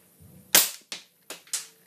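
An air rifle fires at a computer hard disk drive, giving one loud close crack followed by three sharper, smaller impact snaps in quick succession, with brief decays between them.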